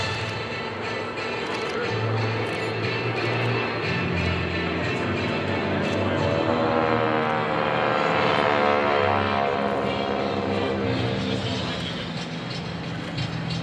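GEICO Skytypers propeller planes flying in diamond formation at an airshow, a steady loud droning roar of several engines that swells and fades gently, with a voice talking over it.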